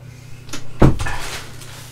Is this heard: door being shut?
yes